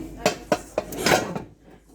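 Metal saucepans and frying pans knocked and set down in a home kitchen, several sharp clanks spaced about a quarter second apart, then a short scraping rattle, close and fairly loud with faint voices nearby.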